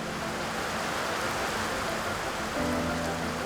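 Monsoon rain falls on the open plains of Shuklaphanta, Nepal, a dense, even hiss that holds steady throughout with a low rumbling undertone.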